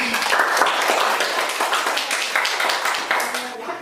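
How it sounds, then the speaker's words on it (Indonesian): A fifth-grade primary school class claps for two classmates after they answer questions at the front of the room, a close, uneven patter of small hands mixed with voices. "Tepuk tangan dulu untuk Giva dan Hani."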